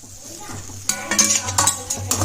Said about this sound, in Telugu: ఇప్పుడు ఇడ్లీ వేసుకుందాం.